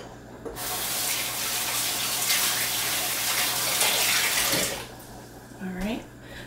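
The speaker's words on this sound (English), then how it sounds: "Got to rinse my hands off real quick." A kitchen water tap runs in a steady close gush while hands are rinsed under it, then shuts off, leaving a brief splash and a short spoken remark.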